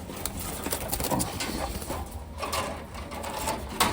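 Taiwan pigeons coo softly in a loft, with faint, low, throaty calls and some rustling and mechanical-sounding background noise, and no one speaking.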